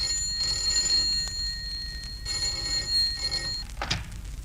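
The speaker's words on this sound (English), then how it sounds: "Yet the trouble first appeared as the commonplace ringing of a telephone." An old-fashioned telephone rings in bursts, its bell tone steady and fairly clear in a quiet room, with a brief knock or click near the end.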